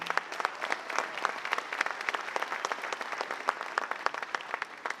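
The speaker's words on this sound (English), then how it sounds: "Give them a round of applause again." Audience applause at a hula performance, a steady dense patter of many hands clapping that holds evenly for several seconds.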